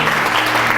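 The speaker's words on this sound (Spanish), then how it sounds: "Denle un fuerte aplauso a Jesucristo." Applause from a church congregation during a worship service, a dense continuous wash of clapping filling the room without a break.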